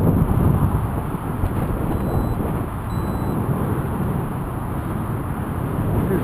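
Strong wind buffets an outdoor FPV drone flight, a steady, loud rumbling roar of gusts against the microphone that continues unbroken with no voices.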